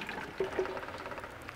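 Blended French tomato sauce being poured from a blender, a soft liquid pour with a couple of brief glugs over low background noise.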